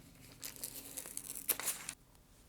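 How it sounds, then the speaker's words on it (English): Fusible web backing paper being peeled off fabric makes a soft, close tearing and crinkling sound that runs for about a second and a half, quiet and with no talking. "I'm going to just take that corner of the paper and peel it off"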